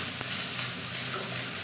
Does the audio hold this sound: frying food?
yes